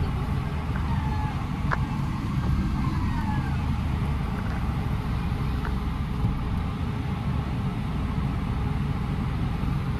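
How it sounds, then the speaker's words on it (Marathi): Dense road traffic grinds along through a crowded town during the Ashadhi pilgrimage, a steady loud rumble of engines with faint horns and a distant siren-like whine. "ट्रॅफिक ट्रॅफिक नुसतं ट्रॅफिक"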